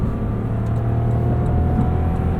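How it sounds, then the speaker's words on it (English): Steady engine drone and road rumble from a 2019 Lexus LX 570 driven at night, revs held slightly up under light throttle, continuous and close with no talk. "Giving it just a little bit of throttle to get those revs up."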